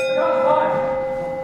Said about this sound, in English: We're ringing the bell.